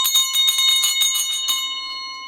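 A small bell is rung rapidly several times inside a tattoo shop, bright and ringing close by, then the tone lingers and fades out.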